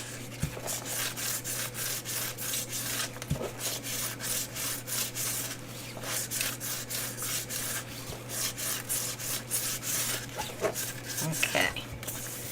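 Surface of a finished resin painting being roughed up by hand, a continuous close scratchy rubbing in quick back-and-forth strokes over a low steady hum, with a few light clicks.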